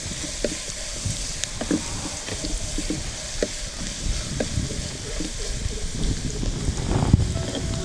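Tomatoes sauté in a pan for a soya and egg roast masala, giving a steady close sizzle with soft stirring taps and scrapes throughout.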